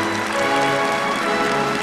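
Audience applause at a ballet performance in a hall, a dense, steady wash of many hands clapping close and loud throughout, with no pauses.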